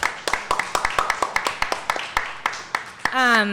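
Sharp, separate handclaps from a small group ring out in an uneven rhythm, thinning out before a voice starts speaking at the end.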